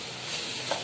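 Chapathi noodles with soy sauce stirred in a hot pan, giving a continuous close sizzle with brief scraping stir sounds and no voices.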